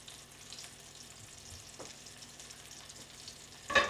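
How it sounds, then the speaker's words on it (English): Butter melting and sizzling in a frying pan before steaks go in, a faint continuous crackle close by with a brief louder burst at the end, no voices. "Here our butter is all nice and sizzling."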